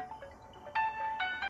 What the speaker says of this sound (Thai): โทรศัพท์ฉัน